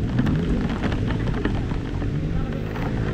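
Rain falling hard on a steep mountain trail, a dense, loud wash of rain noise with low rumbling throughout, no clear talk.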